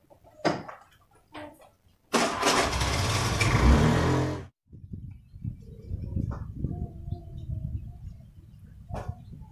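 A motorcycle engine starts with a loud burst and runs roughly for about two seconds before cutting off abruptly. Quieter scattered noises and a brief rooster-like call follow.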